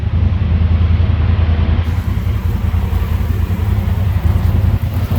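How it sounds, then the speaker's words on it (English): Polaris RZR XP Pro Ultimate side-by-side, overheated, with its engine cooling fan running: a steady, loud low-pitched drone and whir that holds unbroken for the whole stretch, with no voices. "The engine fan came on for a moment and sprayed a lot of water out."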